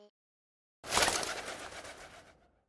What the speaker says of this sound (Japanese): 鳥が飛んだだけかー